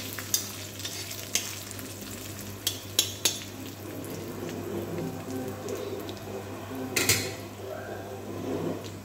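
Three dried red chillies and cumin frying in oil in a pan, a steady crackling sizzle with a low hum beneath and several sharp clinks and scrapes of stirring close by.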